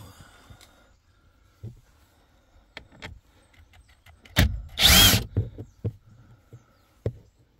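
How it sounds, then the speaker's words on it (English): Screws are removed from the light switch of a Ford Focus MK4 with a power driver: scattered clicks and handling knocks, then a loud, close, whirring burst of about a second, followed by more light taps. "So that's basically two screws that you need to take out."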